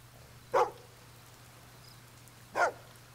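A dog barks twice in Fable 2, two short, clear barks about two seconds apart over a quiet steady hum, with no talking.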